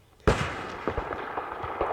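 Gunfire in a small-team conquest video game match: a sudden loud crack, then scattered distant pops and bursts rattling irregularly, with no voices.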